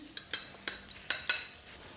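Zucchini protein waffles sizzle gently in sunflower seed oil in a hot pan, with a few short crackling bursts spaced unevenly over a quiet background.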